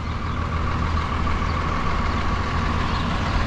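A comedy city tour bus passes along a street in Charlotte, North Carolina, its steady engine rumble close and loud against the surrounding traffic noise, with no one speaking.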